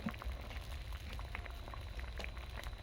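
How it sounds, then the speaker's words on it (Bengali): Red lentil dal with curry leaves boils in a pot with a faint, continuous bubbling and soft popping, steady throughout and quiet, with no voices. "দেখো ডালটা পুরো সেদ্ধ হয়ে এসেছে"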